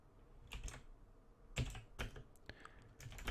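Keystrokes on a computer keyboard while entering a Linux shell command, a handful of sharp clicks in irregular bursts, close and fairly quiet with no talk.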